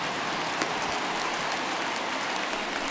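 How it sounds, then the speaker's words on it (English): Steady rain falling during a baseball game in MLB The Show 21, a dense continuous patter without let-up, with no voices over it. "we've mentioned the conditions aren't ideal with the rain coming down"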